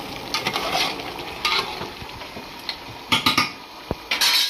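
Tomatoes stew and fry in a handi pot for hotel-style mutton curry, with a soft sizzle underneath and intermittent scraping clinks of a metal spoon stirring against the vessel, close by and without speech.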